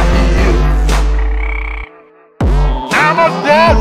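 Frog croaking in loud bursts, a dense run of croaks, then a short silent pause and another burst of croaking, with music-like tonal layers mixed in.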